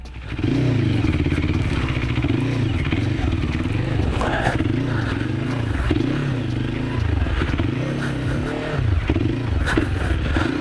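A QJ Motor SRT 450 RX motorcycle engine runs steadily throughout, rising and falling in rhythmic surges of revving, with clattering and scraping over rough off-road ground.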